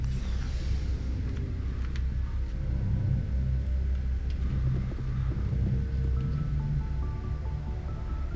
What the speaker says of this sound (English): A little elevator ride up.